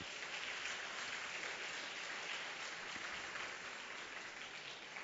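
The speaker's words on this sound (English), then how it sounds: "So please give a big round of applause to our respected judges." A large audience at a university speaking contest claps continuously, a broad even wash of applause that holds steady from start to finish.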